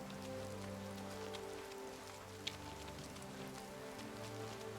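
Rain in the video game Oblivion Remastered, a faint, steady patter of drops hissing on surfaces, with a low ambient hum beneath and one brief tap near the middle, with no voices.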